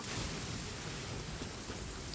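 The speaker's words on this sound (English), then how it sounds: "I like how all this happened in the middle of a big storm." Rain and a thunderstorm inside the Genshin Impact game, a dense steady wash of rainfall with a low rumbling bed, constant and fairly faint throughout, no voices.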